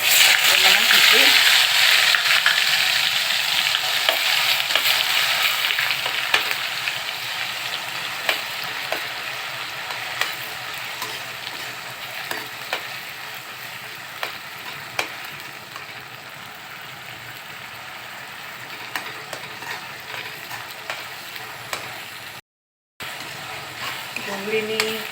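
Homemade onion, chili, ginger and garlic gravy for bhindi masala sizzling in a pan over low gas with asafoetida, a steady dense frying hiss with scattered stirring clicks, starting loud and easing slightly, no talking.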